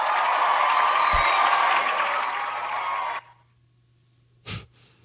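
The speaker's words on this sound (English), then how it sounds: "I had to give my hand clap on that." Applause or clapping fills the first three seconds in a steady wash, then cuts to near silence with one brief breathy thump afterward.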